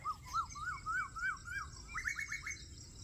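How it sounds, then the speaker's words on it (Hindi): An Asian koel calls repeatedly outdoors, a run of rising whistled notes followed by quicker, higher-pitched calls, moderately distant over faint background noise. "कोयल कितनी शोर मचा रही है,"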